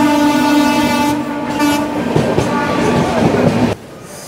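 The 18410 Puri–Shalimar Jagannath Express pulls into Santragachi station, a loud, close rumble with a sustained horn blast and wheel clatter that cuts off abruptly near the end.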